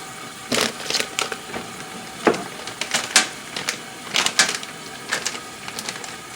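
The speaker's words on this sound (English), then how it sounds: "So I'm going to open up this bag of vegetables." Someone opens a plastic bag of mixed frozen vegetables during dinner cooking, producing a series of sharp crinkling and rustling bursts in irregular clusters, close to the microphone with no talk.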